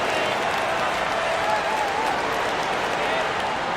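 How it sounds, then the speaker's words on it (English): Steady, dense crowd applause from an arena in an NBA basketball video game on PS5, a 76ers versus Celtics matchup, rolling continuously and fairly loud with no pauses. "Nice round of applause for your 76ers"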